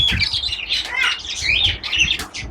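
A pair of golden pheasants and other caged birds give a busy run of sharp chirps and squawks close by, overlapping calls with occasional wing flutters and no talk.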